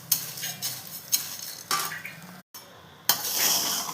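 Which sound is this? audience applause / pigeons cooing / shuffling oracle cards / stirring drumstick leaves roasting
stirring drumstick leaves roasting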